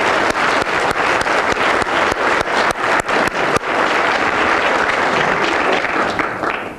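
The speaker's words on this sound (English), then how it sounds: "Let's give him a round of applause." Audience at a school speech contest applauds a young speaker: sharp individual claps stand out at first, then blend into a fuller sustained applause that gradually tapers off.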